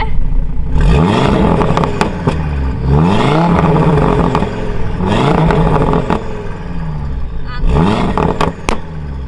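A car engine revs repeatedly in comfort drive mode, rising and falling in pitch about four times, loud and close, with clattering mechanical noise throughout.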